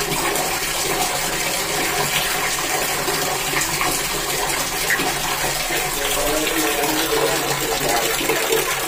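Water gushes steadily from a tap into a bucket, a loud, continuous rushing and splashing close by with no break and no talk.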